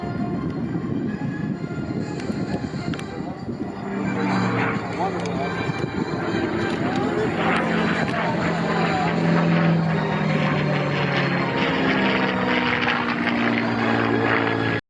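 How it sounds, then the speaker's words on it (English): P-51 Mustang warplane passing at the Columbus Airshow, a rising propeller-engine roar that swells and holds loud, with an announcer's voice and crowd noise underneath. "Let's take a look and a listen to the mighty Mustang."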